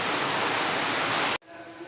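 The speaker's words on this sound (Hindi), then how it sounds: "ये देखिए पानी में अच्छे से उबाल आ गया है।" Water rolls at a vigorous boil in a cooking pot before rice goes in for masoor pulao, a loud, steady rushing hiss that stops abruptly near the end, leaving faint quieter noise.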